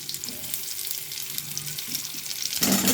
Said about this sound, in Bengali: আমি আলুগুলো একটু ভেজে নেব।